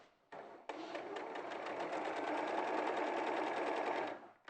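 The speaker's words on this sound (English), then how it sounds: "So I'm just sewing them together on the short end" A sewing machine runs steadily for about four seconds, stitching quilt pieces together along the short end of a baby quilt, its rapid needle rhythm close and clear after a brief start.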